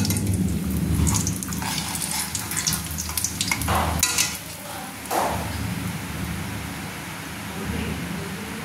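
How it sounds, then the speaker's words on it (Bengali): Steady sizzling of papad frying in hot oil, a continuous crackling hiss with a few brief clatters, close by and fairly loud, no voices. "এদিকে আমি পাঁপড় ভাজবো। আমার তেল গরম হয়ে গেছে।"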